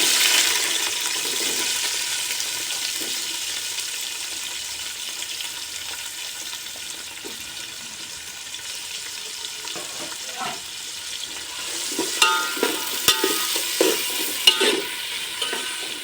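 Onions frying in a pan as the base for village-style chicken gravy, a continuous soft sizzle with intermittent stirring and scraping that grows busier toward the end, no voices.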